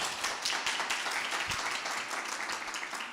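A church congregation applauds, with dense broadband clapping filling the short stretch at a steady, moderately loud level and a brief low thump near the middle.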